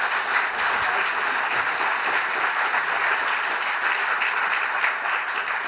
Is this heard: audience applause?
yes